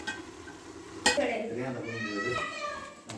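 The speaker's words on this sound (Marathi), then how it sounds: "फ्लावर आता मिक्स करून घेऊया" Cauliflower stirred in a large pan for a big batch of pav bhaji, metal clinks and scraping strokes with a faint sizzle beneath, while someone talks over it.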